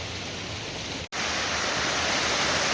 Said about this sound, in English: I don't know the name of this waterfall